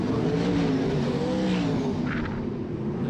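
Pro sprint cars race at Cairns Speedway, their engines making a loud, continuous droning roar that rises and falls slightly as the cars lap the dirt track.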